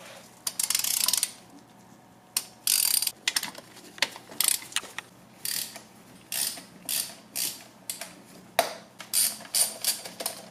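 A ratchet wrench clicks in repeated bursts, quick rhythmic ratcheting strokes with short pauses between, close and fairly loud, loosening a 12mm valve cover bolt on a 1984 Toyota Celica GTS with a 22RE engine.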